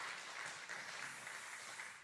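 A church congregation gives a faint, distant round of steady clapping after a sermon and its interpretation. The applause is even and soft throughout and fades slightly at the close.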